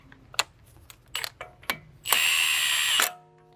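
Pneumatic impact gun snugging a 24 mm 12-point axle nut on a 2015-2021 VW Mk7 Golf R during front wheel bearing work: several short clicks and taps, then one loud, sustained, close rattling burst of about a second.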